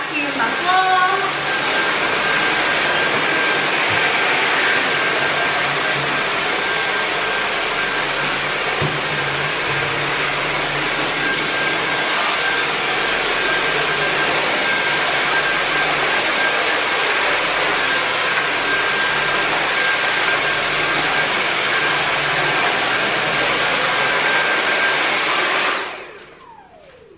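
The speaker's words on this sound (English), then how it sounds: "I get my little Dyson out and vacuum my floor" A small Dyson vacuum cleaner running on a floor at home, a loud continuous high-pitched whine and rush held steady for about twenty-five seconds before winding down at the end.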